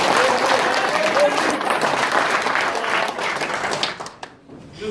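At a founding anniversary celebration in Qatar, an audience claps steadily in a full, dense wash of applause with voices mixed in, thinning and fading out near the end.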